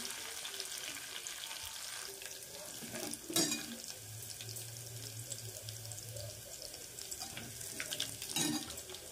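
Green chillies and tomatoes sizzle in hot oil with browned garlic for a dal tadka, a soft continuous frying hiss with a few louder splutters and clinks as it is stirred.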